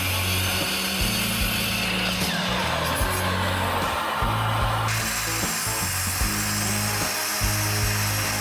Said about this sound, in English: Once that's dry, we'll go over to the miter saw.